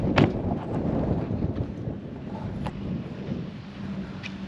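Cold wind buffets the microphone outdoors in South Australia, a continuous rumbling gust with a few sharper thumps, loud and close throughout.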